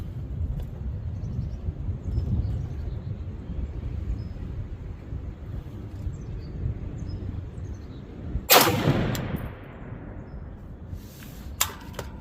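A single sharp, loud crack of an AR10 .308 battle rifle is fired outdoors at a range against steady wind rumble, followed by a fainter second report a few seconds later.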